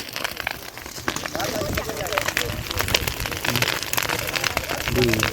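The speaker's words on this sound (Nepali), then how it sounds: "आगोको एकदम आवाज सुन्नु है यहाँनिर पड्किरहेको" Forest fire burning through green vegetation in a small woodland, giving a steady dense crackling and popping at close range, with people talking over it throughout.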